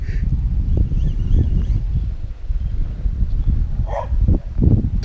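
A dog barks outdoors in a few short, scattered bursts, mid-distance, over wind and rustling near the water on a fishing outing.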